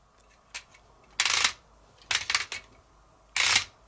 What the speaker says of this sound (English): But you hear the difference in clicks? Like going back, it's not as strong.